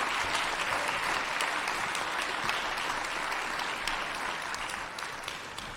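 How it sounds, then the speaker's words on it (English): A ceremony audience gives a big round of applause for the Ottawa Public Health team at a Key to the City event in Ottawa, continuous full clapping that stays loud throughout and tapers slightly at the end. "Please, another big round of applause."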